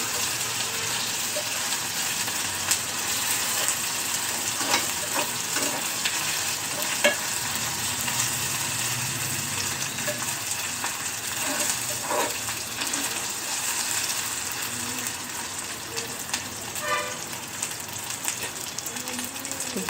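Mutton keema cooking with ginger garlic paste in a pan, a steady close sizzle and frying hiss with occasional stirring scrapes throughout, no talking.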